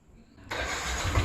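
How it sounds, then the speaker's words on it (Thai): A Yamaha Nmax 155 motor scooter engine catches abruptly after a brief crank and keeps running without throttle, its noise steady and slightly rising. "สตาร์ทที่เดียวติดไม่ต้องใช้คันเร่งช่วย"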